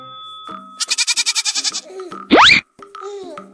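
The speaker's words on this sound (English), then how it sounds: "Goat and kid." Goat bleating in a farm setting, a rapid pulsing bleat of about ten beats followed by a sharp rising cry, then softer bleats, close and loud with no talk.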